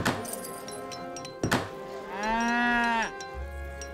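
A cow moos in the Age of Empires III video game, one drawn-out low call preceded by a couple of sharp thunks, over a faint game background with no talking.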